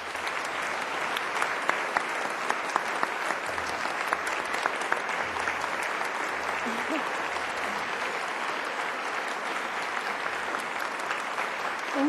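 Sustained applause from a lecture audience welcoming Krista Tippett back to Yale for a talk on religion, media and public life, a steady, dense clapping that holds evenly throughout.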